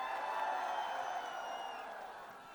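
A large audience at a Border 2 song launch event claps and cheers to welcome Sunny Deol, a steady, fairly distant wash of applause and crowd noise that slowly fades.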